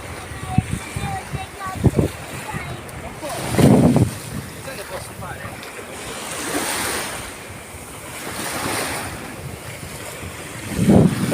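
Sea waves surge and splash against an Italian shore in rolling bursts, with wind buffeting the microphone between swells and voices talking faintly in the background.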